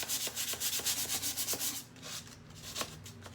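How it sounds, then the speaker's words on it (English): Sandpaper worked by hand over an old 1980s wooden hall tree, distressing the wood: close, quick back-and-forth rubbing strokes in a steady rhythm, then slower scattered scrapes. "just using this sandpaper here, can pull back a little bit of the wood in different places."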